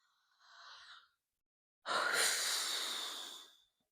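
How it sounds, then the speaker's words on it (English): A person breathing deeply to relax: a short soft inhale, a pause, then a longer, louder airy exhale, close and alone with no talking. "do a little breathing"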